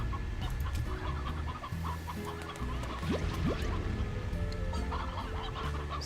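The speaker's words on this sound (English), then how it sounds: "So, get me some chickens." Chickens cluck steadily in the video game Slime Rancher, with a dense, continuous flock of clucks and squawks over farm-style ambience throughout.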